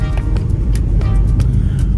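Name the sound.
car driving on road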